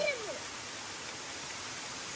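A waterfall rushes in a steady, dense roar of falling water. A voice is heard briefly at the start, then the rushing continues alone.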